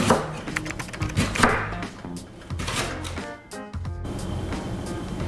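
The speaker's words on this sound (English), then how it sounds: "And then I'm going to slice it as finely as I can." A knife slices a large washed leek finely on a chopping board, giving quick repeated crisp cuts in bursts, close and alone without talk.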